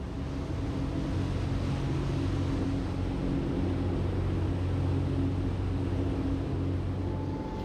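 Sirena 48 motor boat cruising at around 10 knots, a steady, even engine drone with a low hum and broad rushing water and wind noise, no voices.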